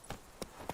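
Horse hooves clip-clop in The Witcher 3: Blood and Wine, three separate hoof strikes spaced apart over a quiet background, short and moderately close with no speech.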